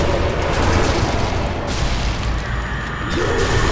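A loud, sustained boom from a grenade explosion in Nazi Zombie Army 2 on PC, the rumbling blast filling the whole stretch with dense low-end roar and no clear speech over it.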